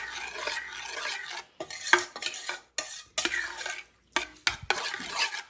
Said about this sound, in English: And then 1 tablespoon of chia seeds. Just stir those in.